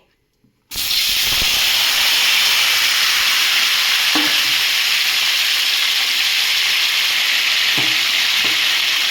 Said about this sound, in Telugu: కట్ చేసిన టమాటాలు అయితే ఇందులో వేసేసుకుందాం